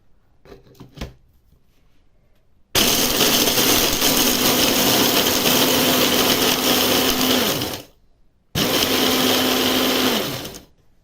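A blender whirs through a chocolate cookie mixture in two loud, steady bursts of several seconds each, separated by a brief pause, after a few quiet clicks and handling sounds.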